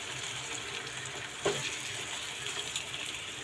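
Barbecue basted with barbecue sauce sizzling and crackling steadily on a grill, close and continuous, with one sharper pop partway through.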